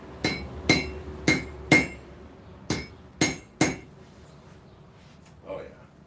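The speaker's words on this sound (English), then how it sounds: "Let's hammer that straight again." A hammer strikes a Samoan cane knife blade on a forge, giving seven sharp metallic blows. The first four come in quick succession, then three more after a short pause, followed by a faint shuffle.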